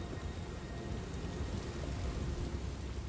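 A heavy storm rages in Elder Scrolls Online, with dense steady rain and rumbling thunder close by. No one speaks.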